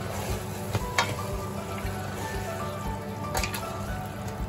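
Chicken biryani ingredients with salt are mixed in a one-pot cooking pot, producing a continuous low, wet squishing and faint sizzle with a couple of soft knocks of the spoon, close by and without speech.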